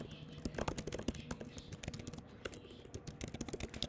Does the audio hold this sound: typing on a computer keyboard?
yes